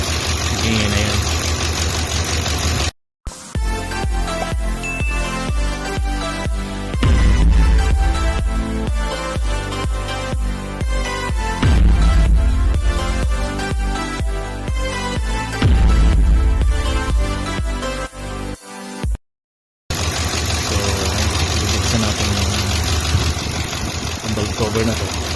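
Idling 2012 Ford Expedition engine with a knocking fault, a steady loud mechanical hum with rapid repetitive ticking, close up, briefly cut by two short dropouts, with no voices over it.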